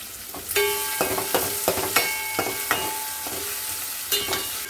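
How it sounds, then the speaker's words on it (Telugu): Chopped onions and green chillies hit hot tempering oil with dried red chillies and curry leaves, sizzling loudly with repeated scrapes and clinks of stirring at a quick, irregular rhythm. "ఉల్లిపాయలు, పచ్చిమిర్చి తరిగి పెట్టుకున్న ముక్కలు వేసేసుకుందాం."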